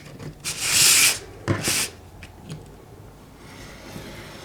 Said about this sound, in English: I want to take the Happy utility knife and I'm going to trim this right to the edge